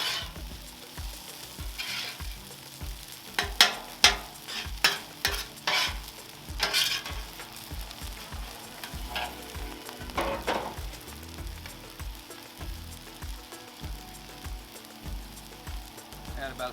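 Pulled pork fried rice sizzles on a 36-inch Blackstone griddle while spatulas scrape and clack against the hot steel in quick bursts, over a steady frying hiss, close up, with a voice now and then.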